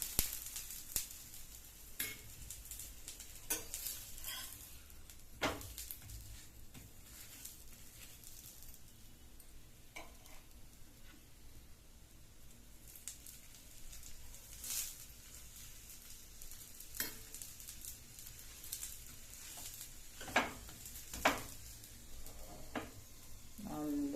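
A paneer paratha fries in ghee on a pan with a soft, continuous sizzle. Scattered clicks and scraping taps break through it over a long stretch, at a fairly faint level.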